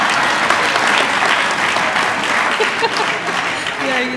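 A room full of guests at a Johannesburg celebration event breaks into sustained applause, a thick continuous clatter of many hands, with a voice briefly talking over the tail end.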